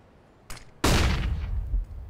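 A flashbang grenade detonates in a CS:GO pro match: a short sharp pop, then a loud, close broadband bang that rings on for over a second before tapering off.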